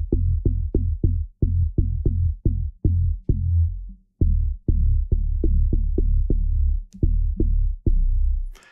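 Deep synth bass patch with chorus effect from the Tone2 Electra 3 software synthesizer, loud repeated short plucked notes in a steady rhythm with brief pauses, no voice.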